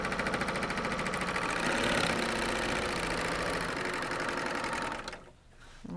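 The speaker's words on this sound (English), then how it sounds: "So you're sewing the lower seam right now, the bottom lower bag seam." A coverstitch serger runs steadily along the bottom seam of a fabric bag, a close, continuous rapid stitching whir that dips briefly near the end before picking up again.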